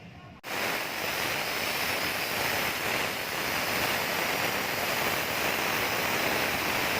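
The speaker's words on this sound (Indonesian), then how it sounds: "Kita semprot paling tidak setengah kaleng." An aerosol can of carbon cleaner sprays steadily into a Honda Freed engine, a loud continuous hiss that starts abruptly after a brief pause and holds evenly to the end.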